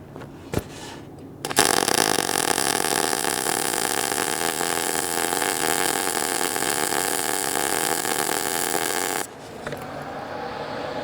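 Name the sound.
MIG welding at 30 inches per minute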